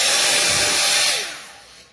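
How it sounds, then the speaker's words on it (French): A small travel hair dryer blows with a steady, loud, close-up rush of air for about a second, then the airflow winds down and fades as it is switched off. "il fait petit sèche-cheveux comme ça"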